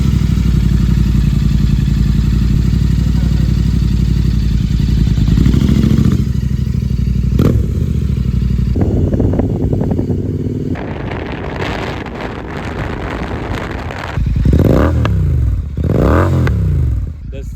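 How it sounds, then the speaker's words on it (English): A motorcycle with a Red Roosters Performance aftermarket exhaust idles with a deep, throaty exhaust burble, then revs in sharp bursts that rise and fall, loud and close. "He's got a new exhaust."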